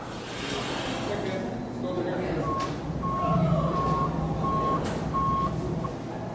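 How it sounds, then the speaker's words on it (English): A backing truck sounds a steady series of sharp reversing beeps at a worksite. The beeps are evenly spaced over a rumbling background, with voices talking. "That was the truck backing up."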